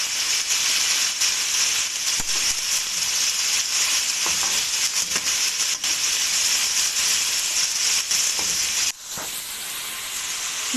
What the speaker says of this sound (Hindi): चिकन को थोड़ा सा भून लेंगे।